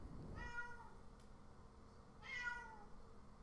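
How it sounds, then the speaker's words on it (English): A small cat meows twice, each call a drawn-out, high-pitched cry with a pause between, heard alone over a low background hum. "You can hear the little cat screaming."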